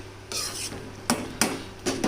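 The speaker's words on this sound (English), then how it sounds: "just with the ladle I will make it slightly mushy, not much" A metal ladle stirs and mashes besan curry in a pot off the heat, giving soft wet scraping and a few brief sharp clinks against the pot's side, close up and fairly quiet.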